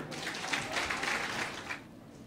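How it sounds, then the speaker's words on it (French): An audience of young people at a public event applauds, with moderately loud, brief clapping that fades out after a couple of seconds. "Applaudissez pour vous-même."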